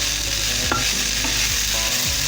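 Ground meat for moussaka fries in a dry pan with no grease, giving a steady, loud broadband sizzle with a few low stirring scrapes and knocks, no voices.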